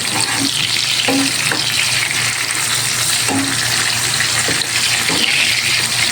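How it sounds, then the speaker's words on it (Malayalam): Tomatoes frying in oil in a pan, a steady close sizzle and crackle with occasional soft clinks and stirring, heard alone without speech. "തക്കാളി നല്ലതുപോലെ എണ്ണയിൽ ഇതാ നല്ല വഴട്ടി വന്നിട്ടുണ്ട്"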